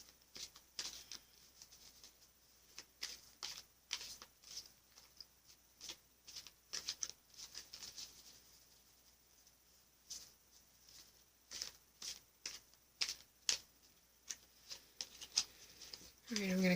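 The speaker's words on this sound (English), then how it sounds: "Now for the Journey of Love Oracle deck. I'm going to pull 2 cards from this for you." A Journey of Love Oracle card deck is shuffled by hand in a quiet room, giving soft, faint riffling bursts in an uneven rhythm.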